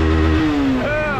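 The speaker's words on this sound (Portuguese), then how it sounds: "A última tirada de giro da moto" A motorcycle engine revs hard near the microphone, with one rising then falling throttle sweep and a second rev climbing toward the end, loud throughout.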